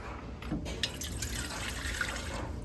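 Water poured into a bread maker pan in a home kitchen, a steady close splashing and trickling that runs through the whole short stretch at a low, even level, with no voices.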